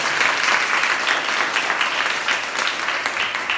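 Audience applause follows a magic trick at a school talk in Hualien, steady and dense throughout like a roomful of hands clapping together, with no voices over it.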